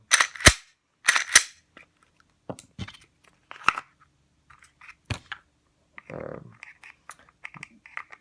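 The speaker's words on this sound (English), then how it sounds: "You just barely run your hand across there and rack that slide" Slide of a Smith & Wesson M&P 9mm full-size striker-fired pistol racked on a tabletop, two sharp metallic clacks up front followed by softer scattered clicks and handling noises, close and clear with no talking.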